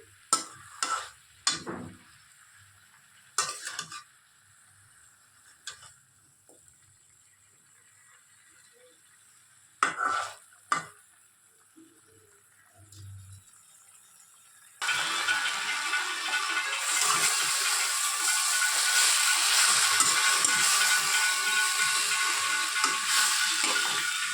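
Spinach stem chorchori being stirred in a pan over lowered heat: a few separate scrapes and clatters, then a steady, loud, close sizzle of frying that fills the rest of the clip.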